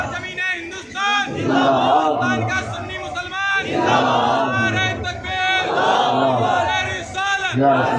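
A crowd shouts slogans together at a religious gathering in Rampur, loud rhythmic chanting in repeated bursts with a leader's voice calling between them.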